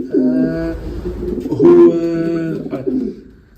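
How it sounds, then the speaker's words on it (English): A Van der Walle racing pigeon, a breeding hen, coos close and loud in a steady series of throaty, rolling calls with no talk over it. "she's a family line of Van der Walle pigeons"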